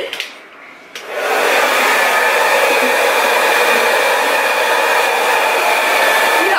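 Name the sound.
blow dryer on cool setting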